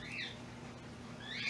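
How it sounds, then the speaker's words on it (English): Pet cockatiels calling excitedly indoors during plant repotting, with short bright chirps at the start and end over a low steady hum. "you can hear my birds are, my cockatiels are going crazy"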